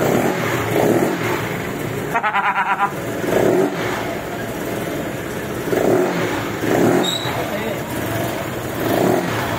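A modified fuel-injected Yamaha Mio 4V scooter fitted with a stock NMAX exhaust revs in several short bursts over a continuous engine drone, while people talk nearby.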